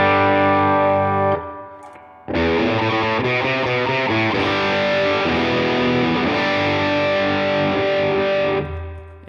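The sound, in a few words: clean electric guitar preset on Line 6 HX Stomp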